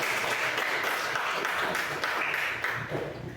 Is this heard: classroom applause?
yes